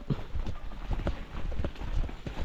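Horse hooves clip-clop in a steady, uneven walking rhythm as the animal is led to a new tether spot on a rice-farm area, fairly close and clear with faint background noise.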